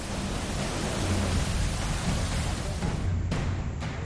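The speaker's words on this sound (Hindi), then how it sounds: "हर तरफ उफनती नदियां सब कुछ बहा ले जाने पर आमादा दिखती हैं" Heavy monsoon rain and swollen, rushing rivers in Pithoragarh, Uttarakhand, a loud, unbroken wash of roaring water and downpour that fills the whole clip, with no voices.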